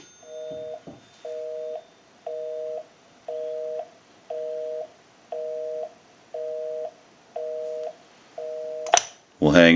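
A Western Electric 202 desk telephone with a Bell ringer box plays a busy signal, a steady on-off tone pulsing about twice a second and heard clearly up close, followed by a loud clatter at the end.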